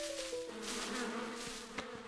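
Cartoon bees from a hive give off a faint, steady buzzing drone, with a soft tonal hum running throughout a short passage.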